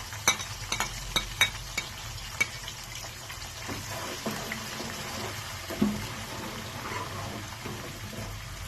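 Onion pieces drop into hot ghee for a baingan gravy, with a few sharp clatters at first, then a soft, steady sizzle and the occasional stir.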